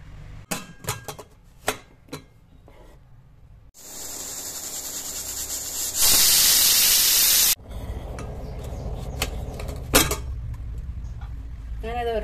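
A pressure cooker cooking potatoes on the stove builds to a rising hiss, then bursts into a loud, steady whistling rush of escaping steam for about a second and a half, framed by nearby kitchen clatter.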